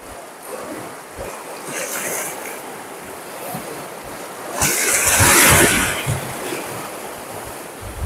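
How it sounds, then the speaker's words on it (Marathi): Boat heading out onto the sea off the Konkan coast near Dabhol, with steady wind and surf noise and a louder rush of waves and spray partway through; no voices. "आत्ताच बोट काढले बाहेर."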